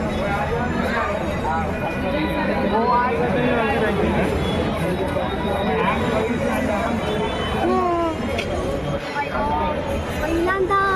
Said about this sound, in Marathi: खूप जोरात खूप गर्दी आहे